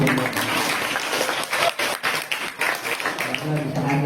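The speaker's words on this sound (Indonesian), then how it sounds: "Nah, tepuk tangan sekali lagi." Applause from an audience at a ceremony for the Sultan of Deli: steady, fairly loud clapping that continues throughout with slight rises and dips. Indistinct voices come through underneath.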